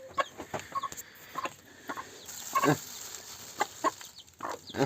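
Clucking and soft peeping from poultry in a coop, with guinea fowl or turkey-type chicks among adult hens, several short calls close by in irregular bursts, a brief laugh heard once.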